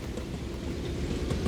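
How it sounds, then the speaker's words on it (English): A train rumbles along steadily in the railway-building game Mashinky, a continuous low, fairly quiet rolling sound without talk. "But that's the train as it stands."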